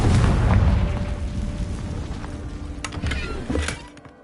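Confringo explosive spell blast in Hogwarts Legacy, a loud rumbling boom right at the start that decays over a few seconds, followed by scattered debris pops and a second smaller thump.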